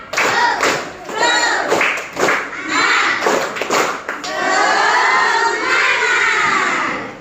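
Schoolchildren in an Indonesian classroom perform the rhythmic 'tepuk semangat' clap chant, loud and close, with bursts of claps and shouted voices in patterned groups, then a sustained stretch of chanting voices.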